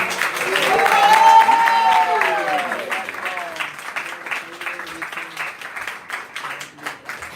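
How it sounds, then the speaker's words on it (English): An audience at a Nrisimha Chaturdashi gathering at the Bhakti Center breaks into applause for Rasanath. A voice carries over the start, then scattered claps continue and gradually thin out. "Big round of applause for Rasanath"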